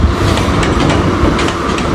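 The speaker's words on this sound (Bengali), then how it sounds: "আমাদের ট্রেন চলে আসলো, পর্যটক এক্সপ্রেস ট্রেন।" Paryatak Express passenger train rolling into a station, a loud, close, continuous rumble with rhythmic clattering of wheels over rail joints.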